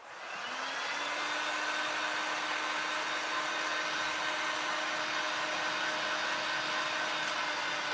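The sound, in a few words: drying a printed fish towel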